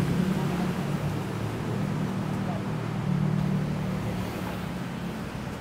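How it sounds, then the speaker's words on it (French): Boat ride on a klong canal in Bangkok, with a steady motor drone and rushing water and wind throughout, moderately loud and continuous, with voices faintly mixed in. "Les klongs, petites balades en bateau."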